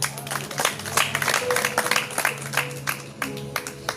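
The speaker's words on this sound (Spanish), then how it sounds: "dale un aplauso al Señor" A congregation at a church prayer service breaks into applause, a dense patter of many hands clapping together, continuing steadily and fairly loud for several seconds.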